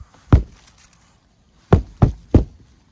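Snow being banged off the sagging roof of a canvas hot tent at a winter campsite: four dull thumps close by, one alone, then a pause and three more in quick succession.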